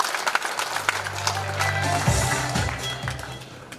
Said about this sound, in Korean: 감사의 박수 부탁드리겠습니다